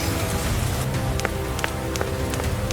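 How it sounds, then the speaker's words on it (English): Cartoon rain falls steadily in a soft, dense hiss, with a few sharper drops tapping through it, even and close throughout. "It starts to rain, and Peppa and George watch the drops roll down the window like tiny mirrors."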